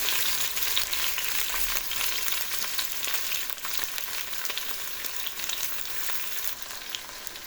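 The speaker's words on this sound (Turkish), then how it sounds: "Evet arkadaşlar karıştırmaya devam ediyoruz." Broccoli soup ingredients sautéing in a pot while being stirred: a continuous, even sizzle and frying crackle with faint scraping of the spoon, steady from start to finish with no voices.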